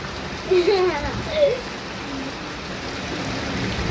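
Steady heavy rain hisses over everything, flooding around a house at night, with a couple of brief voices rising faintly near the start.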